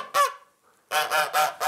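A goose guarding its nest in the back corner of a pen honks loudly and close: one harsh call, a short pause, then a quick series of four honks.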